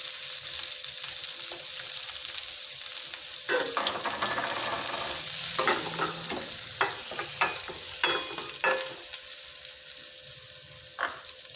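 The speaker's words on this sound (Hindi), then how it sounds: "तो अब ये जो नट्स हैं ये मैं इसमें डाल दूँगी और इसको हल्का सा फ्राई कर लूँगी।" Chopped nuts sizzle steadily in about a tablespoon of hot desi ghee for carrot halwa, with a constant close frying hiss and scattered scraping and clinking as a spoon stirs the pan.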